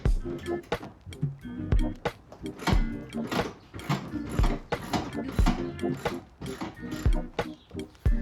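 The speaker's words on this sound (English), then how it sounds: "we've got our 15mm socket and our ratchet" A hand ratchet with a 15mm socket works the seat bolts loose on a 1994 Ford Mustang interior teardown, making a steady series of sharp, close clicks in irregular bursts with brief pauses, without talk.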